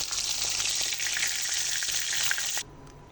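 Turmeric-and-salt rubbed carp pieces fry in hot mustard oil with a loud, continuous crackling sizzle and faint stirring, cutting off abruptly near the end to near silence.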